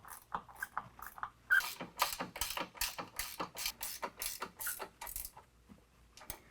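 A wrench with a 13mm socket tightens the step bracket bolts while an Amp Research Power Step XL goes onto a 2018 Ford F-150 Raptor. It gives a quick run of close, sharp ratcheting clicks with no speech.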